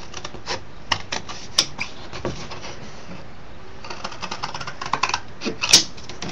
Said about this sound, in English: I'm going to use some scissors, and I'm going to cut this out super quick.